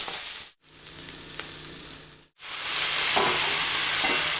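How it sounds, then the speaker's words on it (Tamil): Onions fry in hot oil in a pan for bitter gourd pachadi, giving a loud, steady broadband sizzle that cuts out briefly twice and then carries on with faint stirring. "வெங்காயம் போட்டுக்கலாம். வெங்காயம் நல்லா வதங்கட்டும்."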